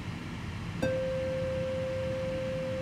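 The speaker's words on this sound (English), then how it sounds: "Let's take a listen to our square wave." A steady, buzzy synthesizer square wave tone starts abruptly just under a second in and holds unchanged to the end over a low background hiss.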